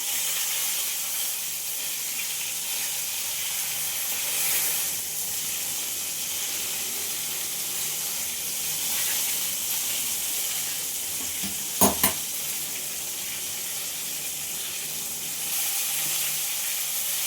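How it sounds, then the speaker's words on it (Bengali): Eggplant slices frying in hot oil give a continuous, even sizzle and hiss, with a brief clink around the moment a piece is turned over. "আর একটু ভাজা হবে। বেগুনটা উল্টে দিই।"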